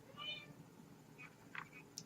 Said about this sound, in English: Cat is wanting back on my lap